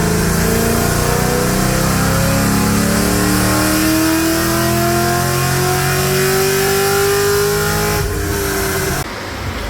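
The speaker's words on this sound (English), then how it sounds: "Now I'm gonna force lock the converter and do a pull." A car with a 6L80 automatic and its torque converter locked makes a fourth-gear pull: a loud, steady engine roar climbs in pitch for about eight seconds, then cuts off sharply as the throttle closes.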